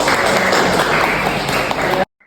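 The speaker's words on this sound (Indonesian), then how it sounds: "Tepuk tangan dong Bapak ya" Loud clapping from a room of seminar attendees at a university teaching session, close and dense for about two seconds before cutting off abruptly into near silence.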